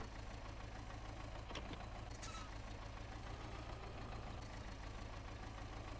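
Tractor engine in Farming Simulator 17 runs at a steady idle, a loud continuous low rumble that fills the whole stretch, with a short hiss-like burst partway through and no talking.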